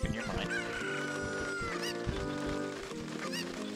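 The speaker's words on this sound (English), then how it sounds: "Come here, chicken" Chickens cluck and squawk in The Legend of Zelda: Ocarina of Time, a busy flurry of close, loud fowl calls with a couple of sharper crowing cries.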